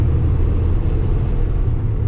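A loaded Kenworth T880 truck climbing a hill in 11th gear produces a loud, steady low engine rumble and drone, close and unbroken, with no voices over it.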